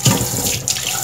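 Tap water runs hard into a sink as a cooking pot is rinsed, a brief, loud, close splashing gush.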